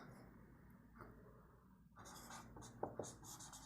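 Writing on a board during a class 10 geometry lesson about circles and tangents. Faint, quiet scratching strokes come and go, with a couple of sharper taps near the end and a hushed room around them.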